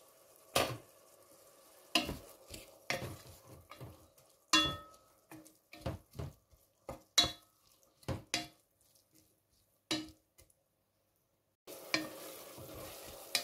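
Carrots and onions sautéing in a covered pot for broccoli soup: soft frying sizzle under a series of spaced knocks and clinks of a lid and utensil, close but fairly quiet, with a brief silent gap near the end.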